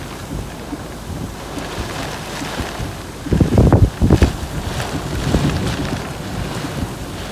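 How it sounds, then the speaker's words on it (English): Strong gusting wind during a supercell thunderstorm near Underwood, Queensland, roaring steadily across the microphone with a louder buffeting burst midway, no talk. "Very strong winds in this thing."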